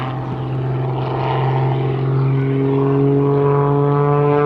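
Propeller airplane engine at a July 4 air show, a loud, steady droning buzz that rises slightly in pitch and swells as the plane passes close by, with no voices.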